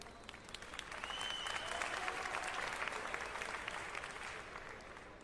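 An arena crowd applauds two professional boxers after their fight, the clapping rising into a steady, fairly distant wash of hand slaps that holds and then eases slightly toward the end.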